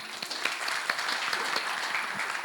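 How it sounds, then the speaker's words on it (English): Seminar attendees at a legal event on wills and succession planning in Muscat applaud together, a dense steady patter of many hands lasting the whole stretch, moderately loud and slightly distant in a room. "Big round of applause to each one of you"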